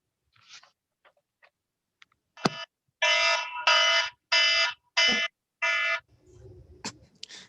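An alarm-like electronic buzzer sounds in a township board meeting, five harsh bursts of roughly half a second each in an even rhythm, preceded by faint clicks and a sharp knock, fairly close and alone without talk.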